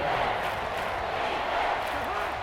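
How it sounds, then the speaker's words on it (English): Steady roar of a packed NFL stadium crowd at a Falcons vs Panthers game, a continuous loud wash of cheering with no clear breaks, a commentator's voice faintly running over it. "this crowd is making an impact right now"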